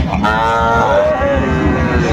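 A Sahiwal bull calf moos loudly and close by, one drawn-out bellow over a low rumbling background.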